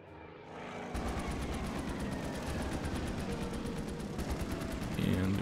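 Steady anti-aircraft gunfire rattles continuously as a Stuka dive bomber is shot down in the Order of Battle: Blitzkrieg strategy game, loud and unbroken over a low engine drone.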